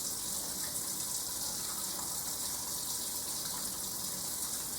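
A kitchen tap runs steadily while hands are rinsed of soap under the stream, producing a continuous hissing gush of water at an even level throughout.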